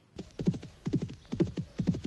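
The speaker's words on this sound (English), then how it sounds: "You had a horse galloping sound effect this whole time?" Movie sound effect of a horse galloping: rhythmic clusters of hoofbeats repeating about twice a second, clear and close with no talk.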